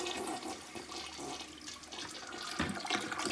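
A household toilet with a weak, slow flush, just repaired, flushes and then refills. Water rushes steadily and fairly close for the whole stretch, with a gurgling swell near the end and no speech.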